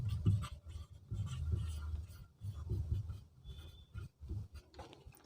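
Chalk or marker scratching out a chemical formula on a classroom board, a series of short uneven strokes with small pauses between them, close and moderately quiet, with no talking.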